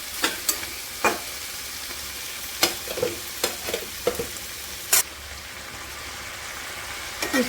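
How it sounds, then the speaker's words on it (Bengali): Vegetarian curry with bamboo shoots frying in a pan gives a steady soft sizzle under sharp, irregular clacks of a spatula stirring it, heard up close with no voices. "ওদিকে নিরামিষ তরকারিটা নাড়াচাড়া করছি"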